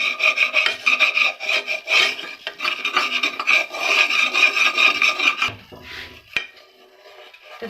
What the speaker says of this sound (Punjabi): ਵੇਸਣ ਦਾ ਥੋੜ੍ਹਾ ਕਲਰ ਚੇਂਜ ਹੋ ਜਾਵੇ ਉਦੋਂ ਤੱਕ ਇਹਨੂੰ ਅਸੀਂ ਹਿਲਾਉਂਦੇ ਰਹਿਣਾ